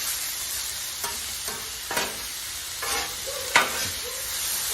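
Food frying in a pan gives a constant close sizzle, broken by several sharp clattering stirs and scrapes of a utensil, with no talking.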